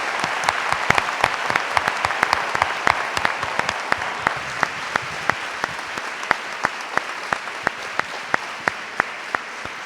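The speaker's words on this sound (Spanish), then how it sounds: "le damos un gran aplauso a Santiago" An audience at a talk applauds, steady clapping from many hands that starts dense and thins to fewer, distinct claps toward the end.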